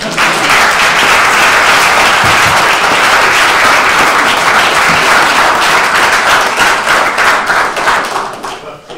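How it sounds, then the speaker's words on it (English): Loud, sustained clapping from a debate audience applauding the participants, dense and close, tapering slightly near the end. "you can applaud all the members who are participating in the debate"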